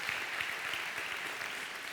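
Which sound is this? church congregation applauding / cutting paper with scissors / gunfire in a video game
church congregation applauding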